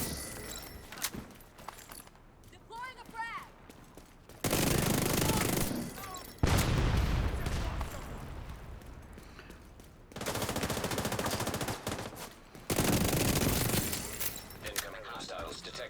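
The Dark Winter gun firing in The Division 2, loud sustained bursts of automatic fire in several long volleys separated by quieter gaps, with a voice talking between them.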